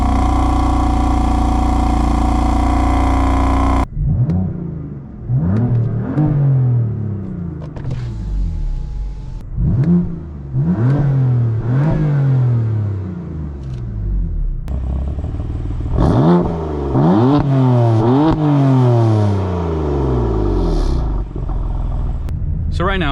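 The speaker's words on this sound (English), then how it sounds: "I'll put in a little revving clip and cold start clip for you" A BMW M4 engine with the stock OEM muffler revs hard several times, loud and close, each burst climbing and falling after a steady opening tone.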